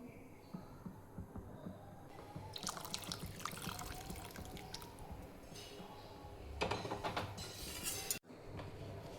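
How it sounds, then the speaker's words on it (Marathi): Hot water poured into a pan of chana amti curry with roasted spices, heard as faint splashing and trickling in two short bursts over quiet kitchen background. "गरम पाणी टाकायचे, थंड पाणी टाकायचं नाही."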